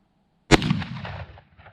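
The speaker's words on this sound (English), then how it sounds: "let's see how this 3855 does. Hopefully it makes a little louder bang than the first one." A Winchester 1894 SRC lever-action rifle, a black-powder gun chambered in 38-55, fires a single loud, sharp shot after brief silence, followed by a rolling echo that fades over about a second.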